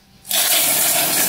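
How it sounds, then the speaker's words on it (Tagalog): Milk pours onto oats in a home kitchen, starting abruptly after a brief quiet and continuing as a steady, close, full splashing gush to the end. "Tapos lagay natin yung gatas."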